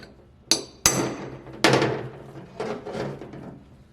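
Hammer blows striking a steel chisel during a limited-slip differential install on a RAM 1500 9.25 ZF axle: five sharp metallic strikes spaced unevenly, the first three hardest, close and loud with ringing decay and no talking.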